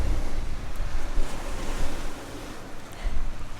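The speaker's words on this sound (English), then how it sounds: "On the beach, of course." Waves rolling onto a Baja beach at a campsite, a steady broadband wash of surf with wind rumbling across the microphone, continuous and fairly loud, no voices.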